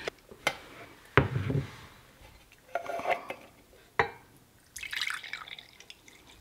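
Lemon juice dripping and splashing into a bowl as fresh lemons are squeezed by hand in a kitchen, a few scattered drips and small splats with light clinks, close and fairly quiet.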